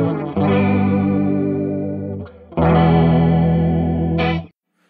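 An electric guitar through an Ibanez Bi-Mode Chorus pedal plays sustained chords with a wide, shimmering chorus effect, loud and close, with a short break between two strums.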